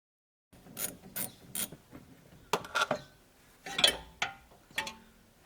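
A socket wrench ratchets a sway bar link nut loose on a BMW E90, giving quiet, close bursts of clicking pawl and metallic taps with short pauses between them and no talk.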